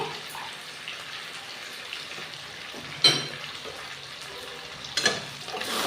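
Cashew chicken masala stirred and sautéed in a pan makes a soft, continuous sizzle. A spoon scrapes the pan in a few sharp bursts, louder near the third and fifth seconds, and no one talks.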